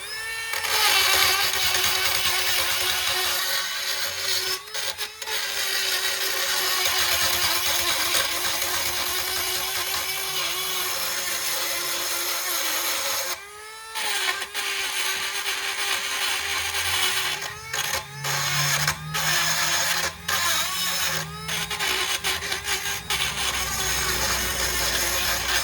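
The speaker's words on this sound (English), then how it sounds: "I like to use my Dremel tool when they're this rusty and clean them up." A Dremel rotary tool whines steadily while cleaning rusty brake slide pins from a Dodge Caliber, the pitch dipping and rising as it presses on the metal, with brief cutoffs and a short pause midway.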